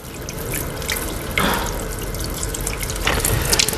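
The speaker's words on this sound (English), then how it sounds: "So I'm going to run some more water out of the deionized water spout." Deionized water runs from a laboratory spout in a steady splashing stream, with brief surges in flow partway through, close by and with no talking.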